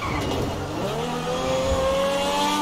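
A lime green Lamborghini SJ driven in GTA 5 accelerates steadily, its engine note rising and holding loud and close, with faint tire noise and no talk over it.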